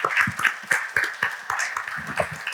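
Audience applause at a talks event on digital Earth, steady scattered clapping from a room of listeners, moderately loud and continuous for a few seconds with no voices over it.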